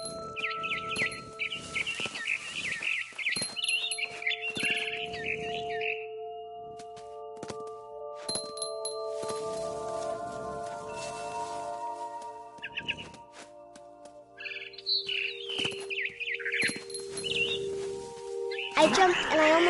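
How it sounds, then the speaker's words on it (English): Bright barn swallow chirps and tweets in a video game come in scattered bursts over a bed of synthetic tones and soft game-like effects. "Then I heard chirping outside my window. It was a barn swallow going back to her nest."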